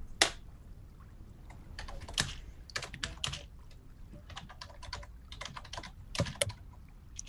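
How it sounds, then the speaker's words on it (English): Computer keyboard typing during a tabletop role-playing game session, irregular bursts of quiet key clicks close to the microphone, with no voices. "I'm typing them in"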